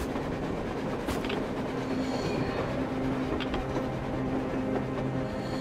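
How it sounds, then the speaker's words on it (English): A train rumbles past in the video game Metro Exodus, a steady, loud rolling drone with metallic rail clatter and brief high squeals throughout, no voices. "A damn train on the surface!"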